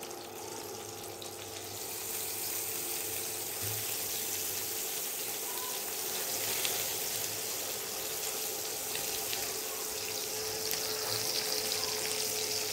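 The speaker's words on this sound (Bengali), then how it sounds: "তেল দিয়ে দিলাম, তেল গরম হয়ে গেছে, দিয়ে দেবো মাছ।" Bhola fish frying in hot oil, a steady, even sizzle and crackle that runs the full length at moderate loudness with no talking.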